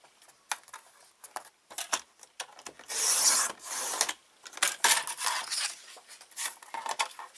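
Paper being cut into a 1.5 inch strip for a junk journal folio, a run of close, dry snips and scrapes with a denser rasping burst partway through, no talking.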